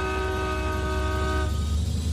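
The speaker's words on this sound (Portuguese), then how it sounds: "Cadê minha buzina?" A vehicle horn blares a steady, sustained tone for about a second and a half, then cuts out, leaving a broad rumbling background noise with no voices.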